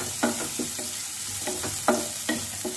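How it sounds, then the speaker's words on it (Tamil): Chopped big onion and a single dried red chilli sautéing in a pan, a soft continuous sizzle broken by several sharp scrapes and knocks of a spatula stirring at uneven intervals. "So, ஒரே ஒரு பெரிய வெங்காயம் இது ரெண்டையும் mix பண்ணிக்கலாம். So, இது நல்லா வதக்கிக்கலாம்."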